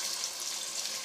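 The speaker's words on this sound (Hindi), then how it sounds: "अब हम इसमें ये प्याज डाल रहे हैं।" Onions going into hot oil for chicken biryani give off a brief bright hissing sizzle, close and steady for about a second with no talk.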